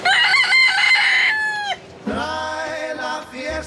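A rooster crows loudly and close by in Key West, Florida, where free-roaming chickens are common; two long cock-a-doodle-doo calls separated by a brief pause, with no other sounds.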